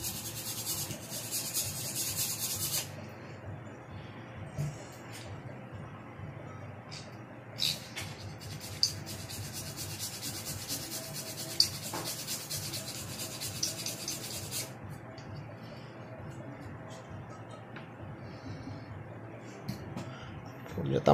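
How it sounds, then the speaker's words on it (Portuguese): Circuit board being hand-sawn, a steady rasping back-and-forth scrape repeating at an even pace, close and fairly quiet, with a few sharp clicks and knocks along the way. "Agora a gente vai serrar aqui a placa para poder montar o projeto novamente."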